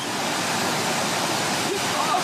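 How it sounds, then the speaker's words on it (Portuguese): Strong floodwater current rushes past a submerged bridge as a dense, steady roar of water that fills the whole clip at a constant loud level. "Uma forte correnteza se formou."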